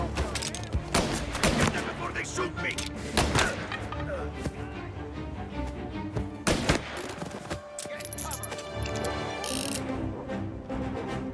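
Game gunfire from Mafia: Definitive Edition, with repeated sharp shots and bursts crackling through the whole stretch over a busy mix of other game sounds, with voices talking in the background.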